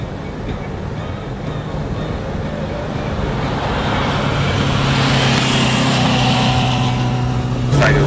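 A brand new 2012 Nissan car on the move, heard from inside as a steady broadband road and engine rumble that grows slightly louder midway, with faint voices in the cabin.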